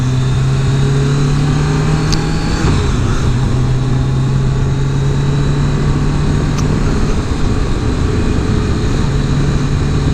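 A car engine drones steadily and loudly up close, with a hum that shifts as it pulls away, like a vehicle setting off on a drive along Skyline Drive.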